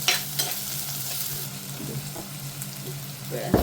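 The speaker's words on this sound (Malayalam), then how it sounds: "ഈ ചെറിയ ഉള്ളി അരിഞ്ഞ് വെച്ചത് ഇട്ട് കൊടുക്കുകയാണ്. വാടട്ടെ, ഇളക്കി കൊടുത്ത്" Chopped shallots frying in a pan for sardine peera, with a low steady sizzle under scattered scraping stirs from a spoon and a louder clatter at the end.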